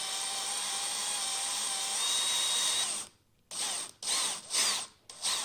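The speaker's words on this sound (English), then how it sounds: "All right, so now we have our 1/8 drill bit on here." A power drill with a 1/8 inch bit runs at a steady high whine while boring through a 2019+ Toyota Corolla XSE for a spoiler fitting, then stops and restarts in several short bursts.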